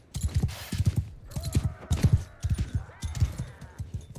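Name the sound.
horses galloping, Mount and Blade Bannerlord video game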